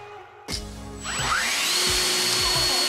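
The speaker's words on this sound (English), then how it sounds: "Or this fan." Electric fan switching on indoors: a click, then a rising motor whir that settles into a steady, loud airy hum.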